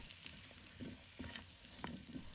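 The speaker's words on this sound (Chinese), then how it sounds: "轻轻翻炒南瓜，让南瓜块在锅中翻滚约1分钟" Pumpkin chunks with squid, scallion, ginger and garlic sizzle and crackle in a hot wok as a utensil scrapes and tosses them in a few quick strokes, close up, with no voices.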